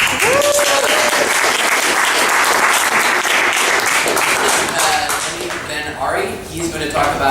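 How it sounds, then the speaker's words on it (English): Loud, dense applause from a tech audience welcoming a speaker on cybersecurity automated with Kubernetes, fading toward the end as voices and a few whoops rise over the clapping. "So round of applause for coming here for this."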